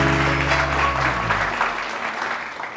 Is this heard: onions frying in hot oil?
no